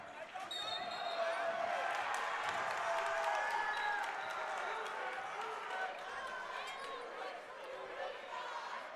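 Spectators at a high school boys basketball game, Del City at Douglass, fill the gym with a steady murmur of chatter and scattered cheers, while sneakers squeak sharply on the court and a ball bounces.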